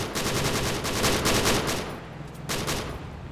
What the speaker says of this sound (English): My bullets are going everywhere.